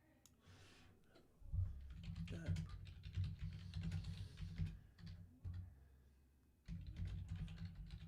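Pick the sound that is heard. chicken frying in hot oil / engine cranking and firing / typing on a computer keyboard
typing on a computer keyboard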